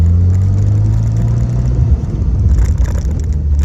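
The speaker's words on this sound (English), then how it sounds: "That was some rough road." Pontiac Solstice GXP driving over a rough road, a loud steady engine drone from inside the car giving way to bumpy rumbling and thumps.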